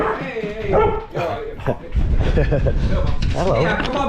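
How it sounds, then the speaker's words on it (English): A dog barks and yips repeatedly at close range beside a mountain hut on the Cumbria Way, excited bursts in quick succession mixed with whimpers, while a person talks over it. "Got attacked by the dog."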